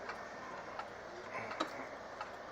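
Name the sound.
banjo clock ticking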